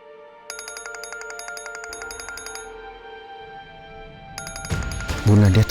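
Phone ringtone of an incoming call, a bright repeating electronic melody near and clear, pausing briefly and resuming before speech and louder sounds break in at the end.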